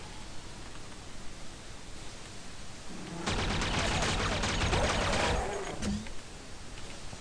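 Trip bombs explode in the game Duke Nukem 3D, a loud burst of blasts lasting about two seconds that rises out of a quiet hiss and fades away.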